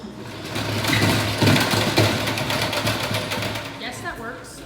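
A honey extractor spinner whirls honey frames with a fast, buzzing mechanical hum that swells and holds steady at close range, while people talk over it.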